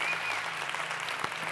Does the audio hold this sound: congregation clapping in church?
yes